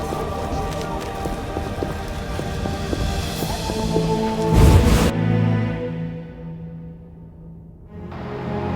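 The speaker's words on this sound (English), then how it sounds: "What a downpour." Heavy rain pours down in the video game The Witcher, a dense steady hiss of downpour mixed with game music and ambience, swelling briefly before easing off.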